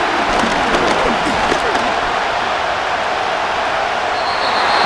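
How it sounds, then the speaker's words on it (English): Stadium crowd in the American football video game Madden NFL 25, a dense, loud roar of cheering that swells steadily and holds at full volume throughout. "What about this crowd getting even louder before 3rd and 10?"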